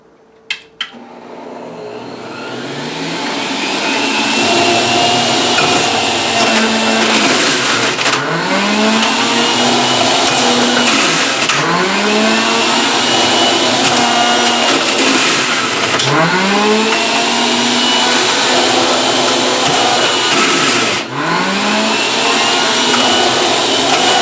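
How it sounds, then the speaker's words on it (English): A powerful Breville stainless steel juicer switches on in a kitchen after a couple of sharp clicks. It settles into a loud, steady motor whine, with a rhythmic rising swoosh roughly every few seconds as the machine works. "So I'm turning on my Brayville juicer, stainless steel."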